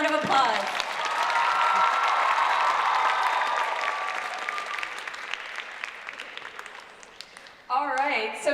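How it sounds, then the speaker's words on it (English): Warm audience applause for team captains at a Dhirana 2022 dance event, a sustained wave of many hands clapping close and loud, tapering off before a voice speaks over a final burst. "Everyone give our wonderful captains another round of applause."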